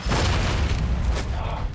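A rifle shot in the video game Alpha Protocol, a loud deep boom with a brief sharp onset that rolls into dense low rumble and game noise for nearly two seconds.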